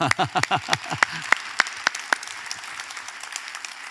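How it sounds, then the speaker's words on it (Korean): A church congregation at a Sunday service breaks into applause for the national team, opening with a few loud distinct claps and then settling into softer, thinning clapping that fades out. "우리 대한민국 선수들에게 박수 한번 보내주십시다"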